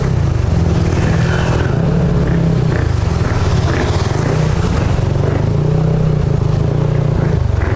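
Cars and motorcycles crawling along a flooded road in Mexico, Pampanga, during a typhoon, producing a loud, continuous rumble of engines with rising revs, heard close and alone.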